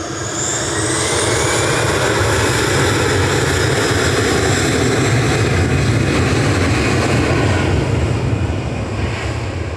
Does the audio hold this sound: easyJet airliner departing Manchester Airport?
yes